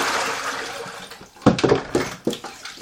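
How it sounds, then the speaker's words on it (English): Tap water runs over salad vegetables being washed, a steady hiss that gives way to splashes and bursts of water hitting the produce, close by and with no talking. "So I'm just washing this."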